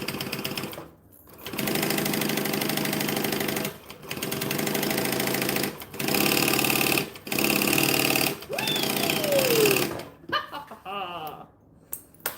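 A sewing machine runs in several bursts of rapid, buzzing stitching, stitching forward and then back, each run stopping briefly before the next, close and loud, with a short voice and laugh near the end.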